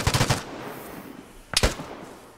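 A video game firefight gives two short bursts of rapid automatic gunfire separated by a quiet gap, fairly close and punchy, with no talk.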